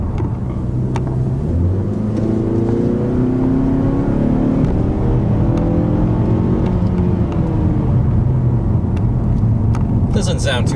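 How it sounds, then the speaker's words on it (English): A 2021 Mazda 3 Hatch engine revs smoothly while driving, its tone rising and falling in steady sweeps under continuous road and cabin noise. "it likes to rev, and it doesn't sound coarse"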